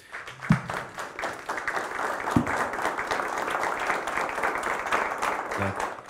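Applause from an audience thanking the guests at a public discussion on urban development, steady clapping from a crowd lasting several seconds, with a few louder nearby claps and a brief voice near the end.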